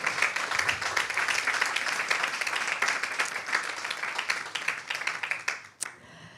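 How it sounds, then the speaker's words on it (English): A round of applause from a gathering at a welcome session during a pilgrimage in Puri, dense continuous clapping from many people that holds steady, then drops off abruptly near the end with a last sharp clap. "Let's give a round of applause for that as well"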